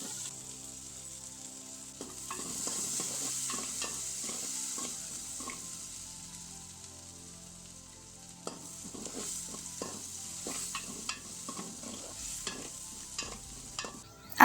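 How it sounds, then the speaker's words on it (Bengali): Chopped onion, bay leaves and cumin fry in leftover oil until lightly browned, with a continuous close sizzle broken by bursts of scraping and stirring in the pan. "অবশিষ্ট তেলের মধ্যে কুচি করে কেটে রাখা পেঁয়াজ, দুটি তেজপাতা ও পরিমাণ মতো জিরা দিয়ে হালকা ব্রাউন করে ভেজে নিচ্ছি"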